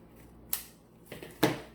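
Scissors snip through a piece of a handmade Mario and Luigi birthday hat in a few separate cuts, with the last one the sharpest and loudest, all fairly close and quiet with no talking.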